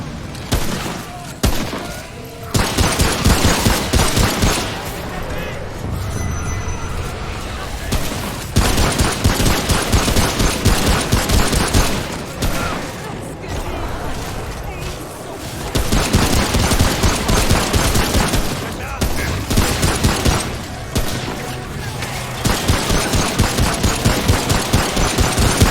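Weapon gunfire in the video game Remnant: From the Ashes, dense bursts of rapid automatic shots and booming impacts that fill long stretches, with brief pauses between volleys, loud and close throughout.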